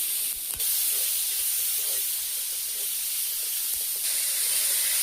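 Ginger, garlic, green chilies, mustard, coriander seeds and turmeric frying in hot oil in a pan, giving a steady, close hiss and sizzle, with a couple of faint clinks and no talk over it.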